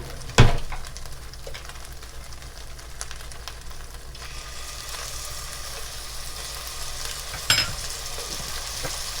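Olive oil sizzles and fries in a hot pan during a beef pepper steak cook, a steady crackling hiss with a couple of sharp spatter bursts near the start and later on.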